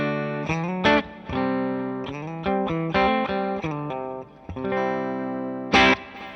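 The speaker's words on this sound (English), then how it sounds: "Now on the Blue Guitar Amp 1, I've got it on the clean setting." An electric guitar on the clean setting of a Blue Guitar Amp 1, with no boost engaged, plays a bright sequence of single notes and short chords with clear, ringing harmonics, moderately loud and alone.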